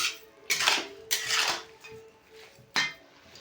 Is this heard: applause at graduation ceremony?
no